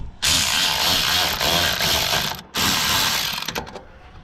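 A hose clamp on the water pump of a 2007 Chevrolet Silverado is tightened with a ratcheting tool. It makes a loud, close, continuous mechanical whir that stops briefly and starts again, then sputters out in short stuttering bursts.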